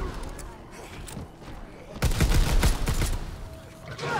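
Gunfire in Call of Duty: WW2 Zombies, The Final Reich map: quieter scattered shots at first, then a loud burst of rapid automatic fire and booms from about two seconds on, with a voice talking in between.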